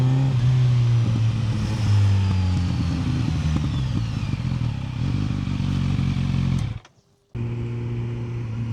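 A 2025 Kawasaki Z900 with a Euro 5 Plus exhaust runs with a steady, loud engine drone and some mechanical clatter. The engine cuts out abruptly near the end, then the drone resumes.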